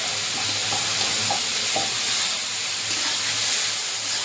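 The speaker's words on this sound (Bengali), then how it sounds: "কুচানো পেঁয়াজটা আবার দিয়ে দেবো।" Chopped onion sizzles in hot oil with cinnamon and cloves, a loud, steady frying hiss close by with faint stirring taps and no talk.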